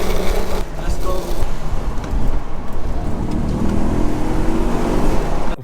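An Audi S4 B6 accelerates hard in a race, its engine roaring loud and close, the pitch climbing steadily through first gear with wind and road noise, ending in an abrupt cutoff.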